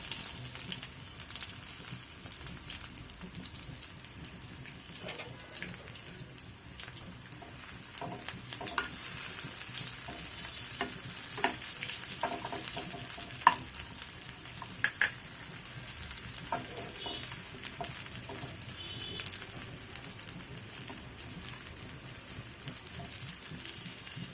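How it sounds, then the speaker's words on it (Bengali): One large chopped onion frying in hot oil, a steady close sizzle and crackle with scattered light stirring clicks running the whole time, no voices. "তৈলটা গরম হয়ে আসছে এখন এর ভিতরে দিয়ে দিব পেঁয়াজ কুচি করে রাখা একটি বড় পেঁয়াজ"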